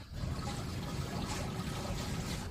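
Dirty river water trickling beside a busy street, a faint continuous burble and splash with low background rumble.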